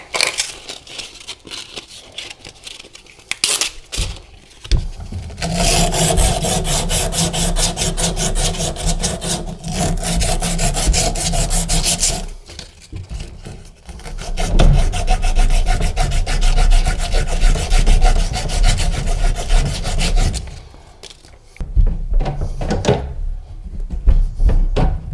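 Copper hot water supply pipe being cut to length with a saw or pipe cutter during a leak repair, a loud steady rasping, rubbing cut in long sustained passes with brief pauses between strokes, close up with no talk.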